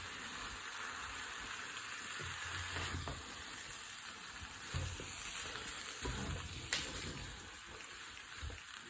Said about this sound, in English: just a quick stir before I put the final touches